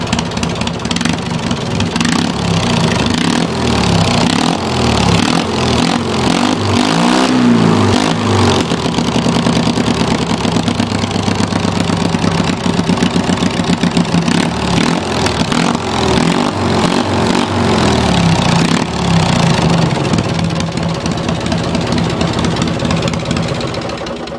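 A racing lawn mower engine runs loudly and continuously at close range, rough and knocking, with its pitch shifting as the throttle rises and falls.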